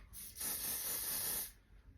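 Hairspray misted from an aerosol can onto hair in a single steady hiss lasting about a second, close and loud against a quiet room.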